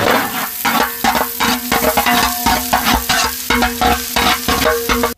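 Finely chopped onions sizzle steadily in hot sesame oil while a utensil scrapes and stirs the pan in quick, repeated strokes, close up with no talking.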